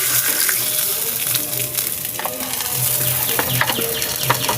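A fish head frying hard in mustard oil in a pan, giving a steady loud sizzle and crackle with scattered pops throughout, no one speaking.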